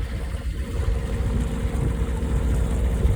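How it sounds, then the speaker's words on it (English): A sailboat motoring in under engine power near Old Lyme, Connecticut, with a steady low engine drone and water rush under wind noise throughout. "So motoring in."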